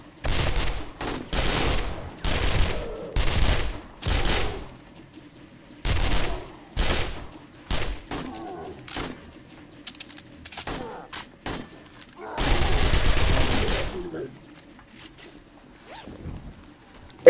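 Video game gunfire in an underground base trial, heard as repeated loud broadband bursts in short clusters, including a longer sustained volley near the end, with quieter gaps between.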